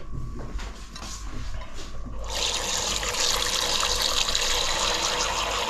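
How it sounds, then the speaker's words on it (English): Cold water pours steadily from a tap into a pot, starting soft and growing into a louder, full rush of running water that continues without pause. "I'm just going to add cold water and then cook it."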